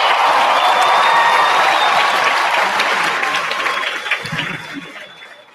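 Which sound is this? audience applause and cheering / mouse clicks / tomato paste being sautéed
audience applause and cheering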